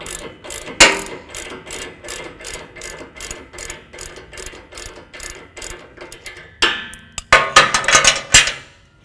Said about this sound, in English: we'll use a 3/4 inch wrench and socket to loosen the bolt